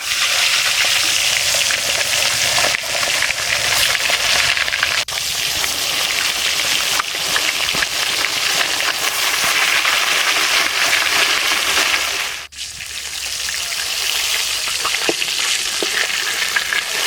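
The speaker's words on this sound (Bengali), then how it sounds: "এই বড়া ভাজার তেলে আর একটু তেল দিয়ে মাছ ভেজে নেবো।" Pieces of fresh pond Katla fish fry in oil left over from frying pumpkin-flower fritters, giving a loud, dense, continuous sizzle that barely dips once before roaring on.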